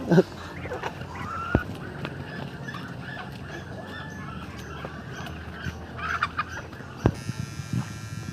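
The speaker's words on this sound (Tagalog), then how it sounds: "Ito yung mga alaga kong manok" Hens cluck and chatter at a moderate distance among outdoor farmyard ambience, with a few sharper calls and occasional bumps breaking through.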